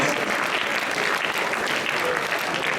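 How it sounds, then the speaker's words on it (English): Sustained applause from a school audience for the quiz contestants who placed runner-up, a dense, even wash of clapping at a strong level throughout with no voices over it. "can we please have a huge round of applause for our contestants"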